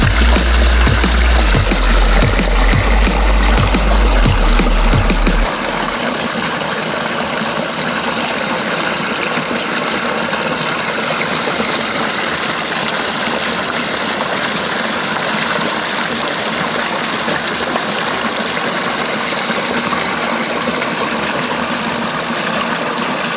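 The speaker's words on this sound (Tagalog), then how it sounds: "Ganda ng agos, tuloy-tuloy ang agos ng tubig dito." Water pours continuously over a small forest waterfall, a steady broadband rush that holds even and loud throughout, with a low rumbling thump in the opening few seconds before settling into the constant flow.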